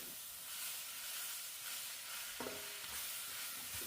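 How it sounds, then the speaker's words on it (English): Chicken and onion stir-fried in a hot pan or wok, a steady close sizzle and hiss with scraping stirs, the crackle swelling briefly as ingredients are tossed. "Okay, onion going in. I'm just going to continue the stir fry here."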